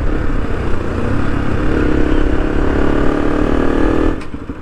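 A motorcycle engine drones steadily and loudly while riding toward GNRC Medical in Guwahati, holding an even pitch before dropping away near the end.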